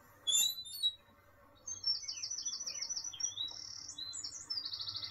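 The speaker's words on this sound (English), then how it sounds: "Going up to the wren now." A wren sings from the treetops along a forest walkway, with rapid, trilling bursts of high chirps that start after a short pause and run on without a break, clear and fairly close.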